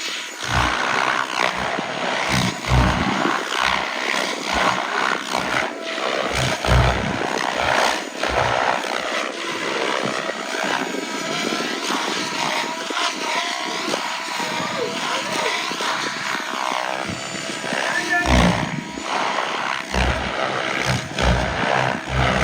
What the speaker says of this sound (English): he's got a bigger helicopter out now